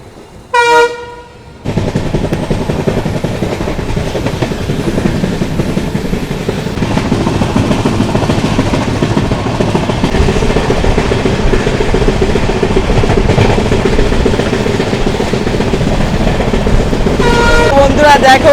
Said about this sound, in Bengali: আমার ট্রেন ছেড়ে দিল শিলিগুড়ি জংশন রেলওয়ে স্টেশন থেকে